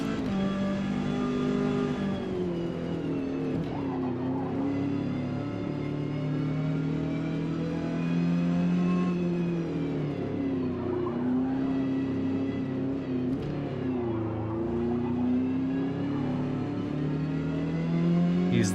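Upgraded car engine in the Forza Motorsport racing game revs loudly and steadily, with rising and falling pitch sweeps as the car accelerates and shifts, continuous throughout with no talking.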